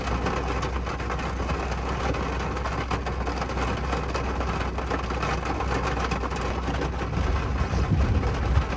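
A 2019 Ford Raptor truck driving through deep water during a thunderstorm, with a steady low engine rumble under a constant wash of water spray and rain, loud and unbroken throughout.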